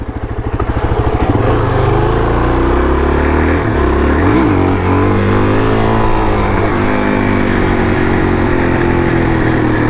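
Suzuki DRZ400 dual-sport motorcycle engine running loud and close throughout, revving up and easing off with wavering pitch as it rides along, with no talk over it.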